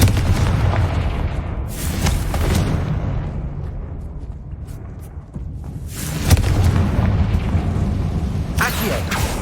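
A Confringo explosion spell in Hogwarts Legacy goes off as a series of deep, loud booms and bursts, several blasts spaced a few seconds apart over rumbling game ambience.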